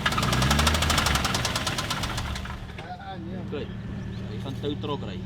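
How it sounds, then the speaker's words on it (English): A rally car engine runs roughly with a loud, rapid rhythmic knocking, then the clatter drops back and people talk over a quieter idle. "Louis, he's busy with his engine. Something sounds horrible inside there."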